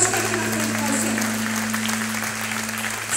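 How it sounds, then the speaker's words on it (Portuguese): Congregation clapping in a Brazilian church service, a sustained, even patter of many hands at moderate level, with a low steady electrical hum running underneath. "Só palmas para Jesus."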